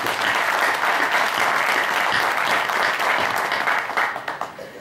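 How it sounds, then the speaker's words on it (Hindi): A crowd at a Hindi poetry gathering (kavi sammelan) claps loudly and steadily, a dense close wash of applause that holds for several seconds before tapering off at the end. "एक बार सभी लोग जोरदार तालियां बजाइए"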